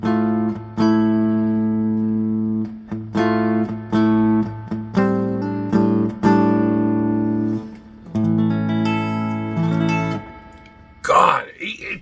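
Electric guitar, a Squier Sonic Esquire fitted with a Seymour Duncan P-Rails pickup in P90 mode, plays loud sustained chords and ringing notes in separate strums, ending with a brief scrape.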